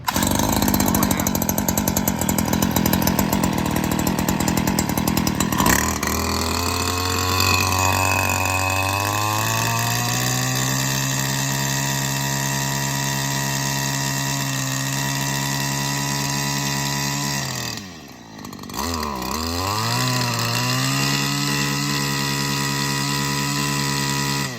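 A Stihl FS94R string trimmer's small two-stroke engine starts and runs loud and close, its steady drone rising in pitch as the throttle opens, then briefly dropping near the end before settling back.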